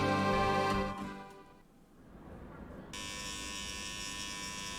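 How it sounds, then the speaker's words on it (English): In the video game Trails in the Sky, a microphone on a festival stage lets out a feedback squeal: a buzzing electronic tone fades out, then a loud, steady, high-pitched whine cuts in and holds. "Was that feedback on the mic?"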